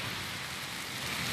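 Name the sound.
rain falling during outdoor vlog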